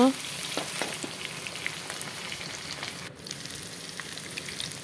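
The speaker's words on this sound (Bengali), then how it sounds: "আলুটা লাল করে ভেজে নেই" Potatoes frying until browned for a chicken curry, a continuous hissing sizzle of oil that stays fairly even throughout with a brief dip near the end, no one talking.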